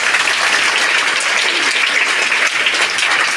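A school audience claps steadily and loudly at the MGS Got Talent preliminary round at Ratanben Chunilal Mehta school. The dense, even applause fills the whole stretch, and no one speaks over it.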